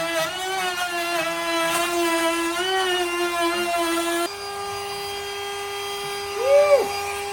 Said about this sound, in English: So I'll push that out and start routing in a clockwise direction